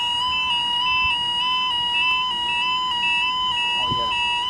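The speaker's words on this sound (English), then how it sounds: "I told you the alarm's quiet now." Railway level crossing alarm at West Dyke in County Durham, a steady two-tone electronic warning sounding continuously and loud throughout, with a brief voice near the end.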